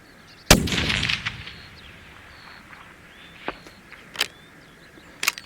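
A Savage Impulse Mountain Hunter straight-pull rifle fires a 7mm PRC round outdoors: one sharp, loud report with a short rumbling tail, followed by faint distant pops and ticks.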